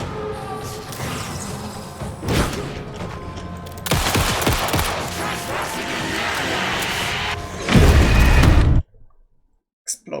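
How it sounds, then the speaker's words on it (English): A loud, dense burst of explosive blasts and crackling gunfire-like impacts in the video game Alan Wake 2, sustained over several seconds, then a heavy final boom before sudden near-silence. "Explosion."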